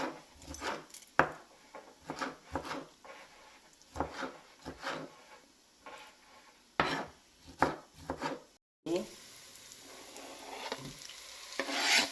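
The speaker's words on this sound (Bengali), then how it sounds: "এদিকে টমেটো কেটে নেওয়া হচ্ছে।" A knife chops tomatoes for chicken kosa in a home kitchen, tapping in quick, uneven runs of close strikes on a board, with a faint frying hiss in the background.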